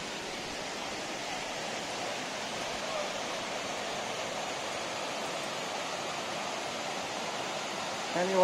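Bertha Falls in Waterton Lakes National Park, a mountain waterfall roaring as a steady, dense rush of broadband water noise from start to finish, with no talk over it.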